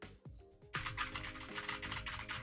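Computer keyboard typing in a rapid, steady run of close clicks after a brief quieter start, continuing throughout at moderate loudness with no talking.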